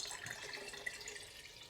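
Filtered water pours into a half-gallon jar in a home kitchen, a soft, continuous splashing trickle heard faint and close with no voices.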